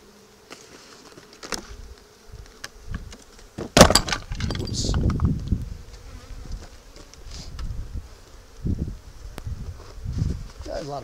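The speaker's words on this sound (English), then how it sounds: "A lot of bees down there." Honeybees buzz in an opened hive during an inspection, a steady close drone from a mass of bees, with sharp clattering and scraping of hive parts and some talking.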